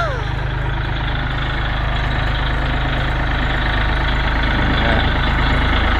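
A Kubota L4018 SP tractor engine idles close by, a steady low diesel rumble that holds even and unbroken the whole time.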